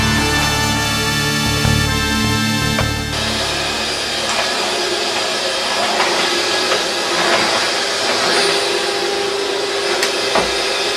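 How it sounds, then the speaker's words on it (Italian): Domestic vacuum cleaner running steadily indoors, a continuous broadband whine and hiss with a tonal hum that shifts after a few seconds, unbroken for the whole stretch. "ho appena finito di passare l'aspirapolvere"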